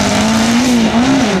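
A race car at the Saint-Lô slalom revs hard with a strained, wavering engine note, close and loud, the pitch rising and dipping briefly over a short burst, with no talking.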